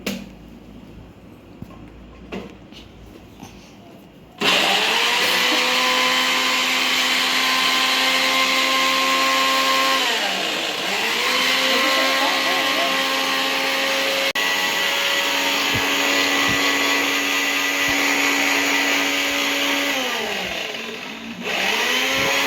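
A kitchen blender whirs loudly and steadily as it mixes watermelon juice with sugar and a pinch of salt, its motor pitch dipping briefly twice as the load shifts, starting after a few quiet seconds and running to the end.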